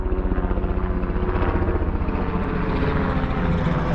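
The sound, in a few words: helicopter flying overhead near Piestewa Peak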